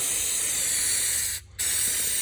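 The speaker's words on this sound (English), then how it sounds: "Buy you a couple cans of ether and just spray the shit where you're gonna." Ether hisses out of a spray can in a loud, steady blast, broken by one brief pause before the spray resumes, with no talking.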